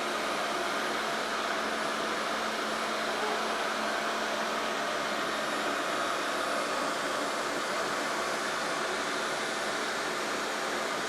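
A Narwal S20 Pro wet-dry vacuum runs on turbo mode, picking up Parmesan from the floor with a steady, loud, close whirring roar that never lets up.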